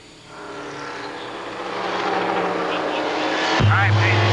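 IRL open-wheel race cars circle the Phoenix oval behind the pace car. A loud engine roar swells and holds, then a sharp downshift drop comes near the end, all under commentary.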